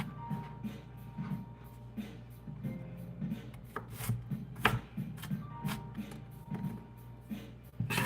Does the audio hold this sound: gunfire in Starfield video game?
no